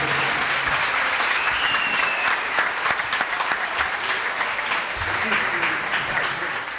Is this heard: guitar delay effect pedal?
no